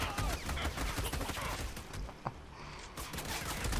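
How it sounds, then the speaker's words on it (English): Gunfire in the video game Army of Two, a dense, sustained crackle of rapid shots close by, thinning briefly before picking up again with a sharp single report in the middle. "Stop shooting me! Don't shoot me!"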